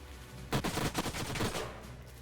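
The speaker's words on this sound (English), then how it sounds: "And now our turret can take these shots here or here." A turret in the sci-fi strategy game Age of Wonders: Planetfall fires a rapid burst of shots, a rattling volley of several sharp reports lasting about a second, clear and alone over a quiet background.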